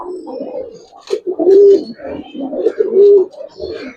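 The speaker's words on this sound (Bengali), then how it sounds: "চা লাইনের কবুতর ভাই। এটাও তো হাতেই ডাকে।" A pigeon cooing while held in the hand, giving several close, loud, throaty coos in a rolling rhythm, two of them long and strong.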